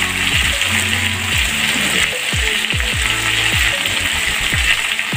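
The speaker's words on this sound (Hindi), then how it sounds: "ये देखिए आलू को हम थोड़ा सा फुल आंच पे हाई फ्लेम पे हल्का सा भूनेंगे" Potatoes fry on high flame with salt, giving a loud continuous sizzle broken by repeated scraping and stirring thumps in a steady rhythm, with no talk.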